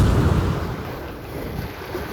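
Strong wind at sea aboard a small fishing boat, a steady broadband roar with the low rumble of wind buffeting the microphone, loudest at the start and then easing to a constant rush, with no talk.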